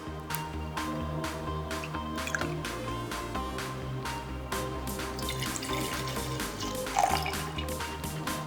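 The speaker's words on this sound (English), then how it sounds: "in a copper mug, I'm gonna start by adding 2 ounces of vodka" Vodka is poured into a copper mug as a Moscow mule cocktail is made, a soft continuous trickle with drips and splashes over quiet background music.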